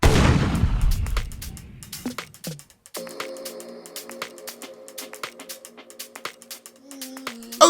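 Shots from a WE Glock 19X airsoft pistol fired at a paper target, a loud burst of rapid cracks at first, then a sparse string of sharp clicks and snaps over a low steady hum.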